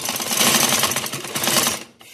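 A sewing machine runs a steady, loud double stitch along a girl's frock, whirring continuously for nearly two seconds before cutting off abruptly, with a short faint tail after it stops.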